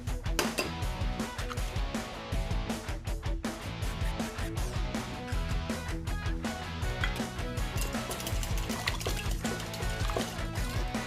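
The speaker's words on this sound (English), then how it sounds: "now I just need to grab my 2 eggs and beat those together in a separate bowl" Two eggs are beaten together in a separate bowl for butterfly cakes, giving a fast, continuous wet sloshing and tapping, close and fairly quiet, with no talking.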